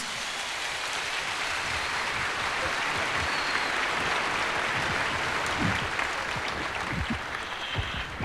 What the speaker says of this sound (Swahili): Wacha nisikie makofi ya rais, makofi ya rais, makofi ya rais.